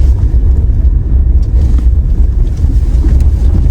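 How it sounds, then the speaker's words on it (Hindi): A car driving slowly and carefully along a slippery, snow-covered mountain road in the Wakhan Corridor, giving a steady low engine and tyre rumble with wind buffeting the microphone throughout and no voices. "काफ़ी ज़्यादा स्नो है यहाँ पे और गाड़ी बाज़ दफ़ा स्लिप होती है। मैं काफ़ी एहतियात से इसको चला रहा हूँ।"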